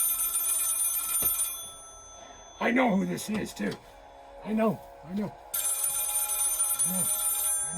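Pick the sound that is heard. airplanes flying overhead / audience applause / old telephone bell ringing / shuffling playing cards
old telephone bell ringing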